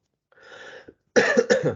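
A soft throat-clearing, then after a short pause two loud, close coughs in quick succession.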